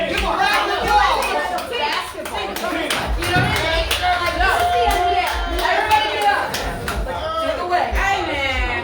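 Studio audience applauding a friendship between two women, a steady burst of clapping from a small group with scattered cheers and chatter mixed in, lasting throughout.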